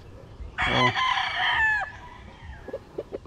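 A rooster crows loudly and close by on a small poultry farm, one long harmonic call, followed by a few short clucks from chickens in the background.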